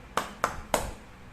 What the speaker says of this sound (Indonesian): Kalau kau anak soleh tepuk tangan